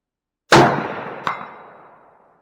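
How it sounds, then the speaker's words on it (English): A Remington 700 .308 rifle fires a single loud shot that rings out and decays, followed under a second later by a fainter distant clang of the bullet striking a steel plate. "Let's shoot that little plate again here."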